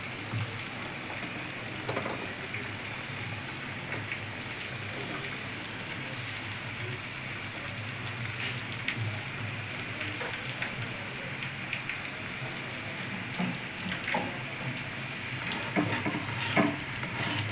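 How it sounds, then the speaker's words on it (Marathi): Small white maida dough snacks frying in oil over a low flame hiss with a soft, even crackle like light rain, faint and continuous, with occasional small pops and no talking. "बारीक गॅसवर तळून द्यायचे चांगले"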